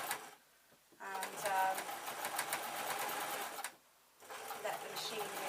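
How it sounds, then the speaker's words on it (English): A sewing machine stitches a zebra fleece slipper with thermal lining in rapid, mechanical bursts: a short run, a longer run, then a pause and another run, close and clear. "let the machine do the sewing"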